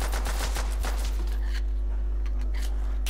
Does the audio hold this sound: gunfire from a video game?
yes